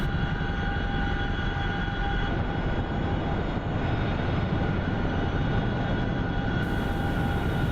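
A Chinook helicopter in the combat flight game DCS World drones continuously with a loud, steady engine and rotor hum carrying tonal whine, with no voices.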